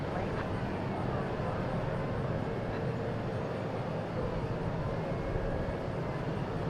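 An airliner departs DFW International Airport, its broad, steady jet roar filling the scene at a constant level throughout, with faint voices underneath.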